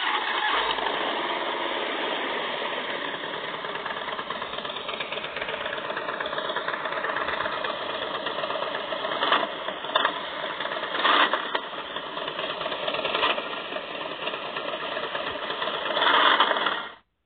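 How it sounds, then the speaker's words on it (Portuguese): A Harley-Davidson S-Series Low Rider motorcycle engine runs close by in a steady, lumpy idle, with a few brief revs toward the end before it cuts out. "A próxima moto que eu vou mostrar pra vocês é a Harley Davidson S-Series"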